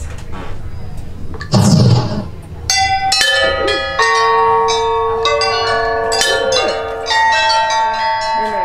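A small shop bell at a Harry Potter wand shop in Universal Studios Orlando rings out with several bright, sustained metallic strikes that shimmer and overlap, heard up close after a brief burst of other noise.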